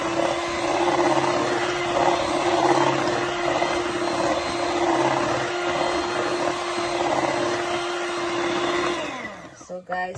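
Electric whisk beating rich cake batter, a steady loud motor whine with a constant hum running nearly the whole time before cutting off at the end.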